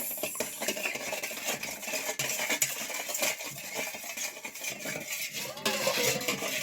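Bread dough ingredients are stirred and mixed in a bowl with continuous close scraping and clinking of a utensil, steady throughout without speech.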